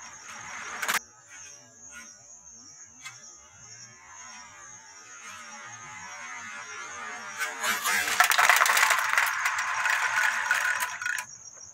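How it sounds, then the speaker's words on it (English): A Meccano model of the Leas Lift funicular car descends with a faint mechanical rattle and whirring hum, then a louder clattering, scraping run near the end, with a sharp click at the start. "and then release the brake, which would start the descent of the car."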